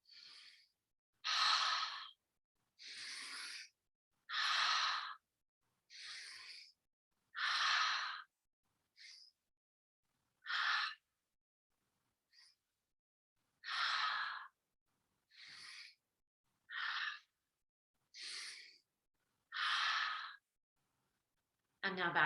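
Rapid breathing exercise done at double time, a series of sharp, breathy inhales and exhales in an uneven rhythm, clear and close with short silent gaps between breaths.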